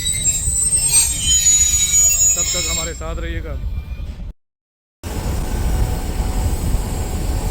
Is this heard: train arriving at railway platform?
yes